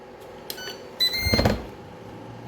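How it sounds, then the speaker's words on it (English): A Ninja air fryer being started, with a few short electronic beeps followed by the fan and heater whirring up into a steady hum, heard close in a quiet kitchen. "I'm just going to go ahead and put my hot crab dip into the air fryer and leave it alone. Just press start."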